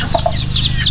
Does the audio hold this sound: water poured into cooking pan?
no